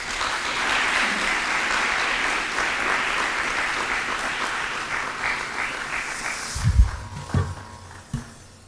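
Audience applause at a senior school graduation ceremony at Oshwal Academy Mombasa, a steady wash of clapping that holds for most of the stretch, then thins out toward the end with a few louder thumps and bumps near the microphone.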